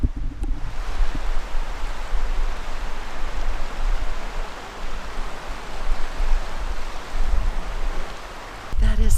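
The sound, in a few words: flowing water heard outdoors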